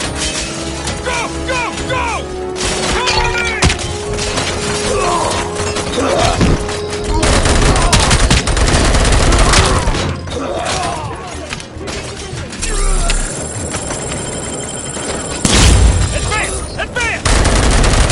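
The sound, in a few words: gunfire in Robocop film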